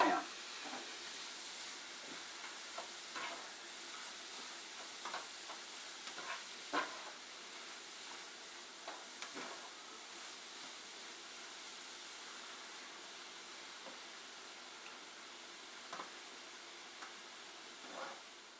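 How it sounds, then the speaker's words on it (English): Cauliflower cooking in a pan for low-carb faux fried rice gives a faint, steady sizzle and hiss, broken by scattered soft scrapes and clicks of stirring. "we've been letting the cauliflower cook in the pan"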